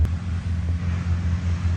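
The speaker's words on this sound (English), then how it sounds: "I'm sorry about the noise in the background. That's tree service." Tree service machinery drones steadily in the background as a low, continuous engine rumble that holds fairly constant throughout.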